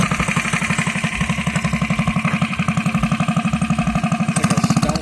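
A mini bike's small engine runs steadily up close, its rapid even putter pulsing throughout with a slight rise in revs near the end.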